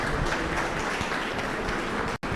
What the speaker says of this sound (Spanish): un último aplauso a Felipe